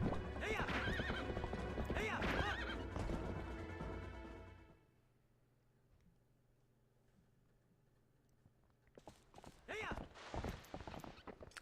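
A horse whinnies loudly several times with clip-clopping hooves in The Legend of Zelda: Twilight Princess HD, layered over game music, then a quieter stretch before more whinnies and hoof sounds return.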